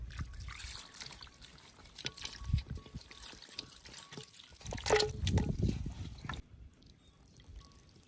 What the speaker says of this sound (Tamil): இப்போ தண்ணி ஊற்றி அழிச்சிக்கலாம்.